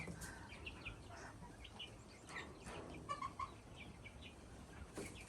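Bielefelder chickens clucking at close range, soft scattered clucks and short calls over steady coop background noise, with a few brighter chirps midway.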